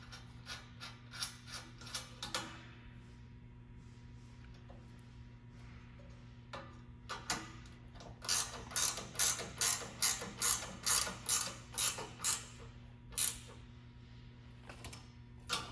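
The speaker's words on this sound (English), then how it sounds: "we're gonna use the nuts that are included with the bumper and tighten these down here" Hand ratchet tightening the included nuts on a rear bumper being fitted to a 2nd-gen Toyota Tacoma, heard as a close, quiet run of sharp clicking bursts, sparse at first and then coming in a steady rapid rhythm, with no talk.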